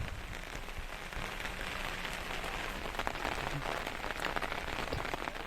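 Steady rain falling in Chamoli, Uttarakhand, a dense continuous hiss of drops on surfaces that stays even and moderately loud throughout, with no voices.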